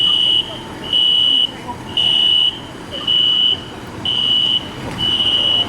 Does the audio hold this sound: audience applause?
no